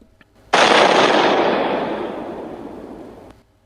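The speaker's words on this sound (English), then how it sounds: "Moments later, a terrific explosion blows a gaping hole in the wall, killing Joker's cellmate." A terrific explosion blows a gaping hole in a prison wall: one sudden, loud blast that rolls into a long, fading rumble for about three seconds, with no voices.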